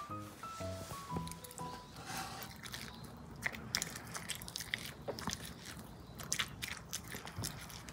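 A small pet chews a treat given by hand, with soft, close wet biting and crunching sounds in an irregular rhythm, quiet overall, after a few faint tones at the start.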